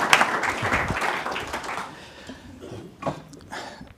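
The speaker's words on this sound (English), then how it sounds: "So Rod, can we give him a round of applause for Rod?" An audience at a book launch claps, a burst of loud applause that fades over a couple of seconds into scattered claps and murmurs.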